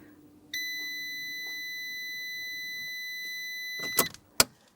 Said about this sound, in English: If you don't hear a hum coming from your back seat, then your fuel pump isn't working.